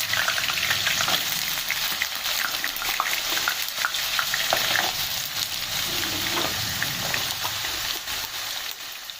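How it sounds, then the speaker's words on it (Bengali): Potato pieces fry in hot oil for aloo palak, giving a constant close-up sizzle and crackle with occasional stirring sounds throughout. "তো আলু পালংয়ের সবজির জন্য আলুগুলো আমি প্রথম ভেজে নেবো"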